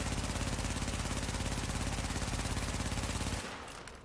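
Underbarrel weapon firing in The Division, a fast, continuous automatic stream of evenly spaced shots, loud and close, stopping abruptly near the end.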